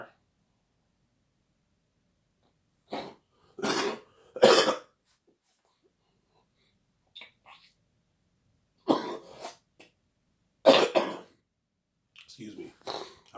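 A man coughs in short harsh bursts: a pair, then a tight cluster of three, then scattered single and double coughs with throat clearing in between, close and fairly quiet.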